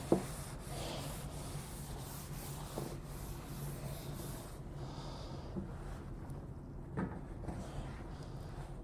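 A cloth wipes oil across a wooden cutting board in soft, continuous rubbing strokes, quiet and close, with a few faint bumps and no speech.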